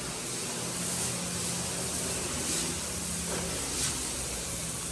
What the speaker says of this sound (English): I can actually just kind of feather the trigger and spray